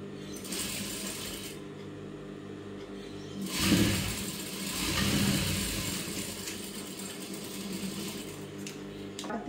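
A sewing machine stitches two fabric pieces together with a continuous, close motor hum and needle chatter that swells briefly in the middle and runs throughout.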